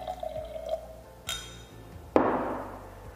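Clear water poured into a glass or container while preparing to test honey in a traditional kitchen in Burundi, with a sudden close splash and fill near the end after a few light clinks.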